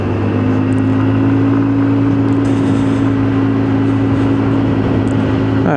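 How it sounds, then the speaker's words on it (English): Lexmoto Titan motorcycle riding at steady speed around an estate circuit, a continuous close engine drone with a steady low hum and wind noise throughout, no talk. "But the bike is riding absolutely fine."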